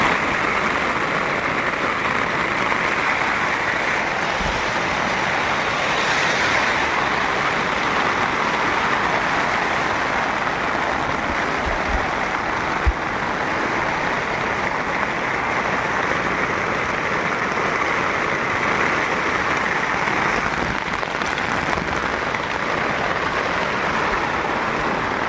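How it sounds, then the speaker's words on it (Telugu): Heavy rain pours down at night onto a rooftop campsite, a steady, dense hiss that stays loud and unbroken throughout, with a few faint low thumps and no talking. "వర్షం అయితే దంచి కొట్టేస్తుంది."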